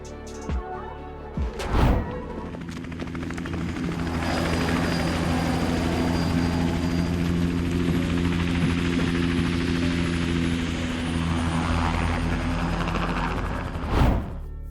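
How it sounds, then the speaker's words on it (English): A helicopter in the video game GTA 5 Online, its steady rotor hum and thrum carrying throughout, with a few heavy thuds at the start and end. "follow the helicopter, but you also need to do enough damage to the helicopter to force a crash landing"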